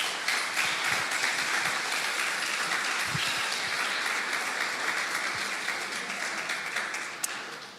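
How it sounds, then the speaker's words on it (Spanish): A church congregation applauds steadily in a hall, many hands clapping in a dense, even wash that holds at the same level for several seconds with only small swells. "Dale un fuerte aplauso al Señor."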